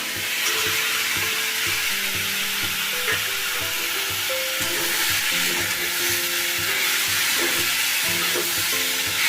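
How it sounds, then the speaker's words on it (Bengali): Fried potatoes go into a pan of frying lote fish and eggplant and are stirred, giving a loud continuous sizzle with rhythmic scraping strokes of the spoon, close and steady throughout. "একটু নেড়ে নিয়ে এবার আমি ভেজে রাখা আলুগুলো দিয়ে দেবো।"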